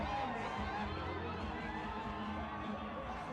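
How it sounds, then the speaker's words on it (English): Thousands of cricket fans cheer at a match, a dense, steady roar of crowd noise with a commentator's voice talking over it. "He raises his bat to the cheer of thousands of fans gathered here"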